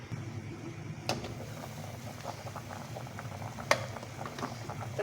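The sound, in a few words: potatoes and meat simmering in a covered pot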